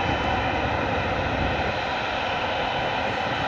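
A jet aircraft at Schiphol airport roars steadily and loudly during takeoff, a dense, continuous engine rumble and hiss from nearby that fills the whole stretch.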